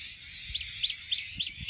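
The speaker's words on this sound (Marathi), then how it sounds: "बघा कस काय चिमण्यांचा चिवचिवाट." Sparrows chirp near a farm pond by a mango tree, five short bright chirps repeating at a steady pace over a dense constant chorus of other birds, with faint low rustling beneath.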